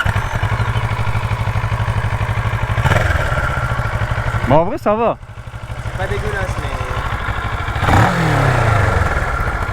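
A Kawasaki ER6N motorcycle engine runs steadily at idle under continuous conversation, with a couple of brief revs rising and falling midway.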